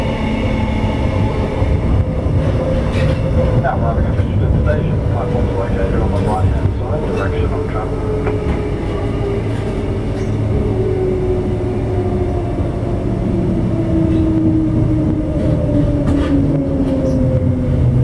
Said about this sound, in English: Now arriving at the station, platform is located on the line.